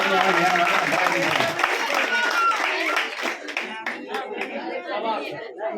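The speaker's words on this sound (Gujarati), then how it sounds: "ખૂબ જોરદાર તાળીઓ પાડ ખૂબ જોરદાર" Audience at a costume event clapping loudly while a crowd chatters, the applause dense at first, then thinning into scattered claps as voices continue.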